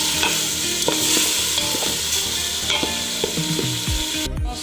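Onions and four fresh tomatoes stirred in a pot for Comorian chicken pilau, a spoon scraping steadily through a constant sizzle, ending with a few sharp knocks against the pot.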